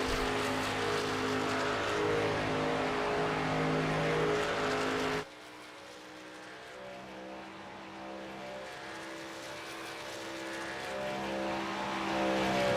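A Toyota Tundra race truck in a racing video game accelerates on a superspeedway lap, its engine drone loud and steady throughout, dropping abruptly in level partway through, then slowly building again.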